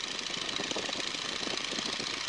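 A Boeing Stearman PT-17 biplane's radial engine runs as a steady, close, loud broadband roar with a faint knocking rattle, with no voices over it.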